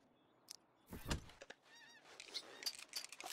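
Geese honk in the Red Dead Redemption 2 game world: a few scattered nasal calls, then a louder burst and a run of overlapping honks at moderate distance.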